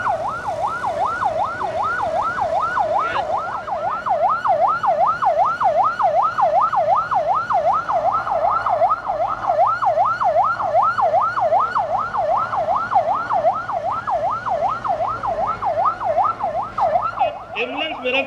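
An ambulance siren wails steadily throughout, sweeping up and down in a fast, regular rhythm during a Rapid Action Force demonstration in Ahmedabad, fairly loud with faint background noise and no speech.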